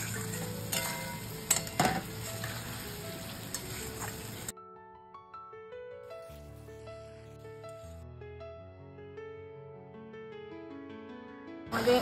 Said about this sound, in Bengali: তো আমি এর মধ্যে কচু আলুগুলো দিয়ে আবার একটু ভেজে কষিয়ে নেব।